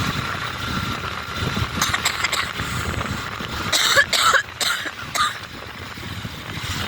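One person coughs in a short cluster of harsh bursts at an airport terminal in Kathmandu, near the domestic arrivals area, standing out against steady background hum.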